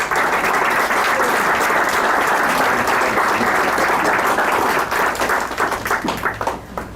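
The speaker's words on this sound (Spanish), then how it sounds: "Les pido un fuerte aplauso para nuestros panelistas" Loud, sustained applause from an audience welcoming the panelists at a public administration school event, dense clapping throughout that begins to thin and fade in the last second.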